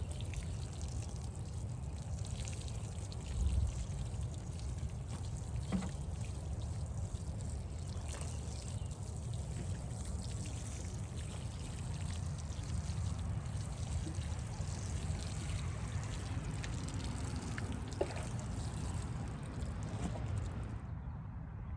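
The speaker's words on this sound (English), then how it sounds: "So I'm gonna go ahead and water the seeds." Outdoors in a school garden, water trickles steadily onto planted seeds, a soft continuous pour with light splashes and occasional small knocks over a low background rumble, then stopping abruptly at the end.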